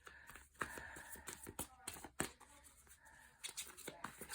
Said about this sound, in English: Shuffle once and go from there